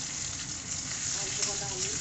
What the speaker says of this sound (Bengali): এরপরে আমি এই আলুগুলো একটুখানি নাড়াচাড়া করে নেবো তেলে